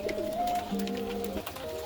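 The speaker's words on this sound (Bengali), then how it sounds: "আর জনকে যে ওই কবুতরটার সাথে জোড়া দিছি" Pigeons cooing close by, soft throaty warbling calls that roll on steadily through the moment with no talking.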